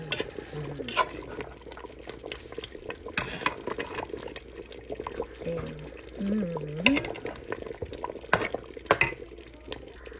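Kare-kare sauce bubbling and thickening in a pot, soft wet gurgles and stirring clinks with a faint background hum, fairly quiet and close.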